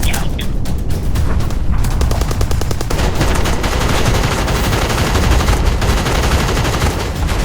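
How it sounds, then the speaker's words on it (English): Heavy anti-aircraft flak bursts around a Lancaster bomber over German factories at night, a loud, dense barrage of rapid cracks and booms that keeps rolling without a break. "the night exploding with flak as they close in on those German factories"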